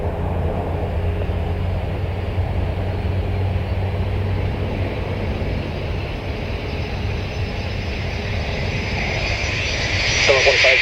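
A fixed-wing airplane on approach to land on runway 35 left at Calgary airport, a steady broad engine roar throughout that swells slightly near the end, with faint air traffic radio chatter underneath.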